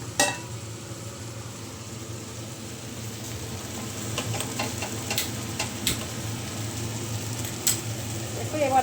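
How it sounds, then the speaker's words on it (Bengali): Goat liver curry sizzles steadily as it fries in a pan, with irregular ticking pops over a constant hiss and a voice speaking faintly in the background. "এবার আমি এগুলো সব একটু কষুক"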